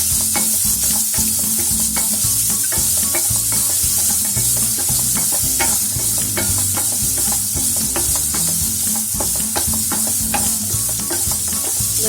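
Green beans sautéing in a pan for spicy masala bread upma, with a steady loud sizzle and frequent scraping, clattering stirs throughout, close and alone with no talk.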